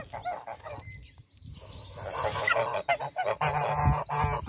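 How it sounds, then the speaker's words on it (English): Geese inside a geodesic dome DIY greenhouse honk in loud, irregular bursts close by, several calls overlapping, with a person speaking briefly between them. "The geese have found their way in."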